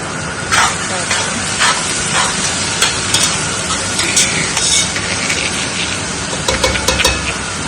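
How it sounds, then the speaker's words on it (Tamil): Onions frying in a pan for Arabic biryani, with a constant hissing sizzle and repeated scraping stir strokes at a fairly close distance. "வெங்காயம் நல்லா வதங்கணும்"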